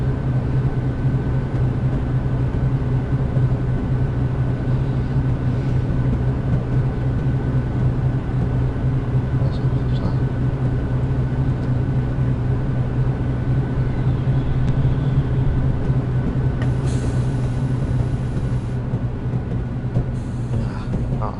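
British East Coast Main Line passenger train in Train Simulator 2013 coming to a stop at the Darlington platform, a steady low rumbling drone of the train, constant and alone without talk.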